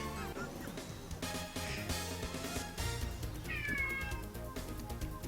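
A pet cat meows loudly and repeatedly near the microphone, its drawn-out cries rising over game music and background sound.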